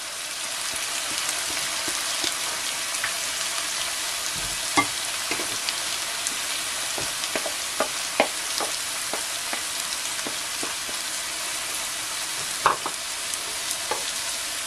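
Chopped onions and carrots fry in a pan with a steady crackling sizzle, broken by occasional sharp clicks and taps of stirring. No one speaks.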